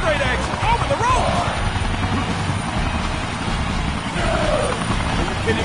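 Helicopter in the WWE 2K Battlegrounds wrestling video game, a steady whirring rotor drone running throughout under excited commentary.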